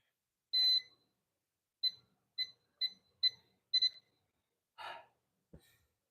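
A workout timer gives six sharp, high-pitched beeps at a steady pace of roughly one every half second, followed by a heavy breath and a faint thump in an otherwise quiet room.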